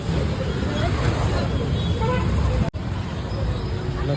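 Jammed road traffic with honking horns: a steady roar of engines and vehicle noise, horn toots and a murmur of voices in the background, with a brief dropout partway through.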